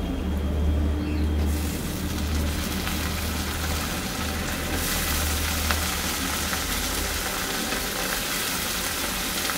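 Chopped potatoes frying with softened, lightly browned onions in a pan, giving a steady close sizzle with a low rumbling hum underneath throughout.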